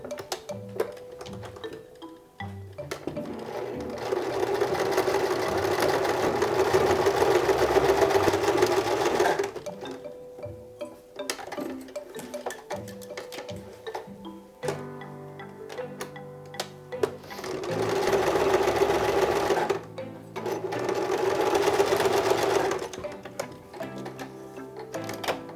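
A sewing machine stitches a quarter-inch seam on a fabric Star Wars face mask in two loud, rapid whirring runs, each separated by a pause filled with light clicks and handling.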